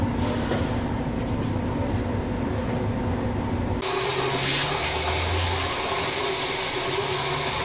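Water runs steadily from a tap or spray over parts of a Miele STB-205 turbo nozzle as they are washed, a loud continuous rush whose tone shifts abruptly partway through as the flow changes.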